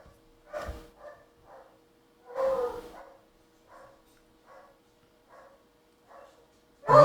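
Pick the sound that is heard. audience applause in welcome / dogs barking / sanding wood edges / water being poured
dogs barking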